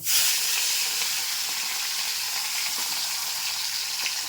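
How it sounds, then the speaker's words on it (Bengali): Fish frying in a pan of hot oil, a loud, steady sizzling hiss that starts abruptly and continues evenly with faint crackles, no voices. "তো চলুন মাছগুলো এবার ছ্যাঁকল করে নিই।"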